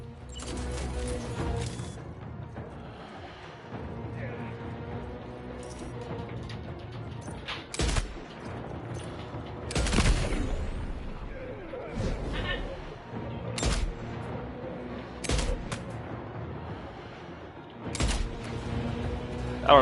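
Gunfire in the video game Death Stranding 2: a handful of sharp, separate shots spaced several seconds apart over a low game soundscape, with a voice talking in between.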